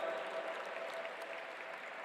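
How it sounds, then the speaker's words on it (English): Audience applause at the G20 Interfaith Summit 2023 at the World Peace Dome, a steady dense clapping from a large crowd in a hall, sustained evenly and alone for the full stretch. "A huge round of applause once again."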